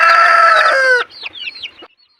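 Chickens sick with colds cry loudly in a coop, one long strained call followed by a few short, quieter clucks before falling silent.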